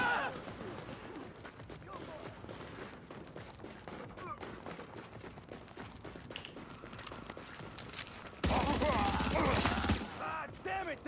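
Hostile gunfire in the video game The Division: dense volleys of rapid shots crackle continuously, with a loud close burst near the end, mixed with game effects and voices talking over the fighting.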